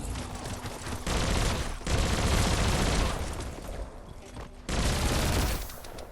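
Loud, dense bursts of weapon fire from a powerful gun in the video game Biomutant come in several sustained volleys with brief gaps between them, close and booming.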